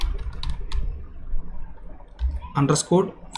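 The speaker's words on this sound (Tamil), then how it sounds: "நான் டைப் பண்ணிக்கிறேன்" Computer keyboard typing, with scattered soft key clicks that come faster in a short run near the end, while someone speaks between them.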